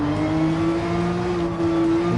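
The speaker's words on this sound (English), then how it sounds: "Just a wee bit of throttle there." Race car engine held on steady light throttle in Gran Turismo 7, a continuous droning hum with a stable pitch that barely rises, loud and close throughout with no talking over it.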